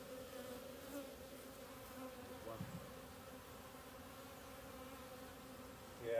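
Honey bees buzz continuously around a hive, a faint steady drone with individual bees passing close by.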